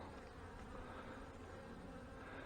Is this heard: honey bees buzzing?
yes